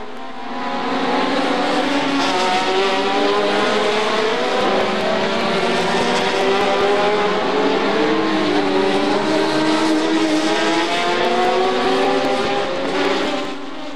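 Formula 1 race cars of the 1971 season roar past in a continuous loud, high engine wail, several cars overlapping and shifting in pitch as they drive, with no speech.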